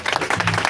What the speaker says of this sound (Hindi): आइए पाक रूह के लिए जोरदार तालियां